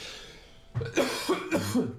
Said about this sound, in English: That coughing is not good.